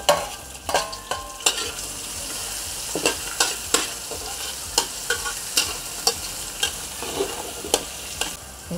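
Ingredients cooking together in a pan of hot cooking oil, sizzling and frying continuously while a utensil scrapes and stirs in repeated, uneven strokes, close and clear with no talking.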